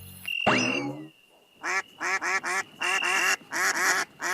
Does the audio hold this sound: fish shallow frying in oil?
no